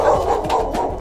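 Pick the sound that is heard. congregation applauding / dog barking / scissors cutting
dog barking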